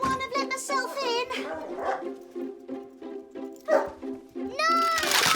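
Mossy the dog gives several quick, excited yips and barks mixed in among lively voices of adults and children talking and exclaiming, all close and fairly loud indoors.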